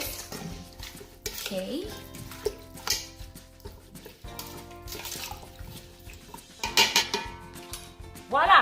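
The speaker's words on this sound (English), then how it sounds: "So we'll stir it first." Sugar being stirred into a mixture in a pot for an Instant Pot recipe, with intermittent scraping and clinking of a utensil against the pot and a brief spoken word.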